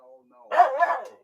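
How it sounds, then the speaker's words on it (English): A pet dog gives a short, close bark-like vocalization, a single two-part yowl lasting under a second after a brief soft sound. "Why you barking at me for?"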